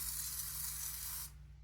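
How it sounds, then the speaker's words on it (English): Whipped cream sprays from a can onto a caramel latte in one steady, close hiss lasting just over a second, then cuts off abruptly with no talking. "Finish it off with the whipped cream."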